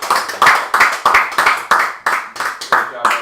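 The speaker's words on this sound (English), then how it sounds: "Everybody, clap for Ben." A small group at a tabletop game session clapping by hand, about a dozen sharp, close claps in a loose rhythmic series with a voice briefly mixed in.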